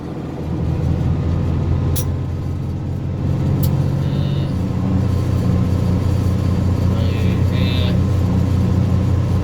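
A truck engine pulling steadily in fourth gear on a California delivery run, a loud continuous low rumble heard from inside the cab, with a couple of faint clicks and squeaks over it.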